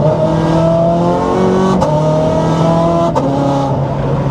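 An Italian sports car, either a Lamborghini Gallardo Superleggera or a Ferrari 430 Scuderia, accelerates hard, its engine note climbing steadily and breaking at two quick gear shifts before rising again, loud and close with no talk.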